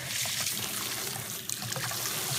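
Bath water running for a Yorkie, a steady close trickling and pouring rush of tap water with small splashes, continuous throughout.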